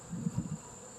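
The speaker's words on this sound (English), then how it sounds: "You guys can look at the bees." Bees buzz in a low, uneven hum with a few louder swells, heard close against a steady high-pitched background tone on a chicken-keeping homestead.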